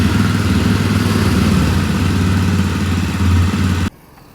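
A touring motorcycle's engine runs steadily at a roadside stop at the start of the Bhor Ghat, a loud close drone with a low rumble that cuts off abruptly near the end.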